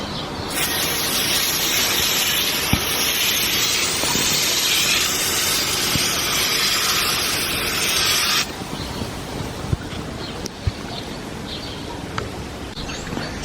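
Grill cleaner spray hisses in one long, loud, steady burst onto a dirty portable grill, then cuts off to a softer fizzing with faint crackles.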